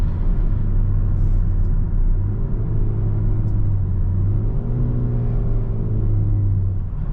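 A 2024 Hyundai Sonata engine pulls hard at high RPM, a steady loud cabin drone with the pitch climbing gradually while road rumble runs underneath.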